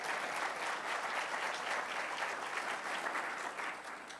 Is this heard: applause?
yes